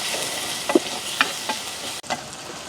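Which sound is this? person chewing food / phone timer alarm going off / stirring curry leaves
stirring curry leaves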